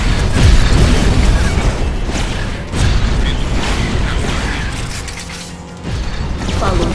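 Explosions and mechanical weapon noise from the Cars 2 video game as a target is destroyed, with loud dense bursts and booms continuing across the whole stretch and brief dips between blasts.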